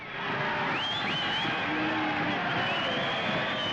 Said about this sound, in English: The crowd's yelling for the main event